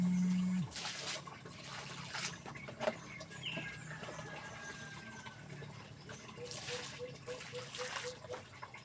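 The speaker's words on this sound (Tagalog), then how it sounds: "Pag umagos na yung tubig na sa gilid, tigil na. Ibig sabihin nun, puno na siya ng tubig." Water overflows the edge of a container as it fills, a faint continuous trickle and gush heard up close for several seconds, with occasional birds in the background.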